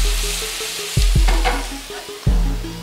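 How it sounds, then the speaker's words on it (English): Maggi bouillon sautés in a pan with a close, continuous sizzle, interrupted by a few sharp scraping stirs, each followed by a renewed hiss. "I'm gonna let that saute for about a minute,"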